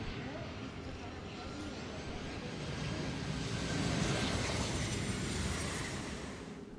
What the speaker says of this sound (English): this is a 727 coming into land at Hamilton Island.